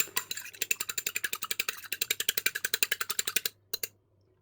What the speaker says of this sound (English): Whisk well.